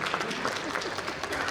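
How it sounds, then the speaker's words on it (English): Applause from a summit audience fills the room as a moderately loud, continuous patter of many hands clapping, heard from within the crowd. "So a big round of applause for Delhi and all of you guys."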